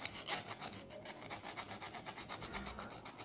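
Steady rasping rub of sandpaper scouring the contact points of a 24 volt starter solenoid, a continuous close scratchy scrubbing with quick back-and-forth strokes and no talk.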